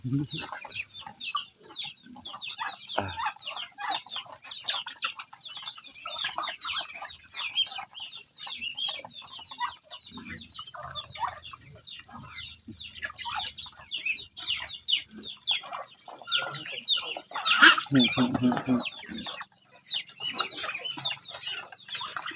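Hens cluck and peck busily while eating, with soft scratching and pecking noises throughout and a brief louder squawk near the end.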